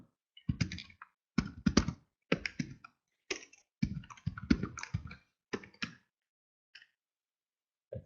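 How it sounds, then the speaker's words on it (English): Bursts of typing on a computer keyboard, close and clear: clusters of quick key clicks separated by short pauses, ending with a few isolated taps. "I'm going to type."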